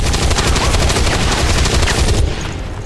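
Rapid, dense gunfire in the turn-based strategy game XCOM, a loud sustained burst of shots rattling for over two seconds before cutting off abruptly into a quieter tail.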